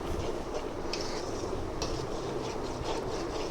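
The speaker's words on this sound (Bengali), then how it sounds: "ভালো মতো কষাতে কষাতে একদম তেল ছেড়ে দেওয়া অবধি অপেক্ষা করতে হবে।" Masala for a loitta (Bombay duck) fish curry being stirred and fried in oil with a splash of water, a steady close sizzle and scraping with occasional sharper scrapes, no talking.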